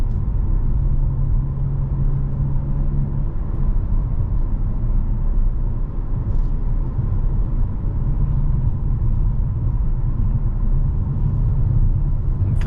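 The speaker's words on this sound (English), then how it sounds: "if we put in sport mode here, drops a gear, becomes a little louder inside" Engine drone and cabin rumble inside a 2023 Hyundai Kona N driving in sport mode, a steady low, loud hum that holds without a break, with no talking over it.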